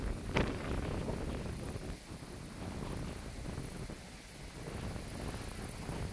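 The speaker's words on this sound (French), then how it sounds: "Rafale de fou qui arrive." Strong, violent storm wind gusts roar continuously across the microphone, with broad rumbling buffeting that swells and dips over several seconds, loud and close, with no talk.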